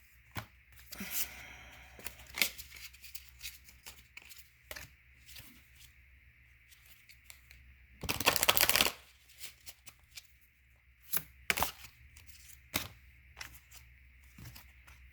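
A deck of oracle cards being handled in a quiet room, with scattered soft taps and flicks and one dense riffle-like burst of shuffling lasting about a second.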